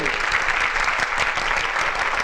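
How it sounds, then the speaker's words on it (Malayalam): A crowd applauds at the start of an Onam celebration group run, producing dense, continuous clapping that stays loud and even for the whole short stretch. "കൈയടിക്ക് നന്ദി"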